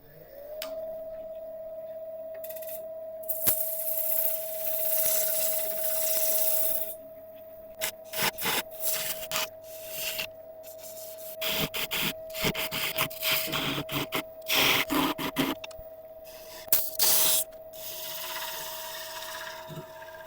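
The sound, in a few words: sanding wood on a lathe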